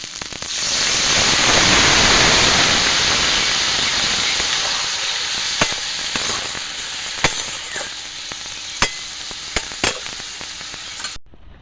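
Water hits a hot pan of chicken pasta and erupts into a loud, hissing sizzle that swells over the first seconds, then slowly dies down to a softer fry scattered with sharp pops and crackles.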